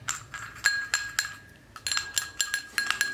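A spoon clinks sharply against a bowl while a rose water face paste is mixed, bright metallic taps in an uneven rhythm, close and clear with no talking.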